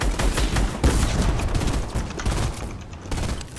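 Rapid gunfire in a squad-based shooter video game, dense overlapping bursts of shots and impacts sounding loud and close throughout.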